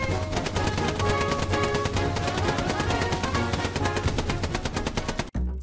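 Rapid machine gun fire in a video game, a dense rhythmic burst of shots holding steady for about five seconds and then cutting off abruptly.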